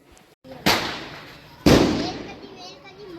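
Diwali fireworks go off outside a decorated home: two loud, sharp bangs about a second apart, each trailing off into a long crackling, hissing decay.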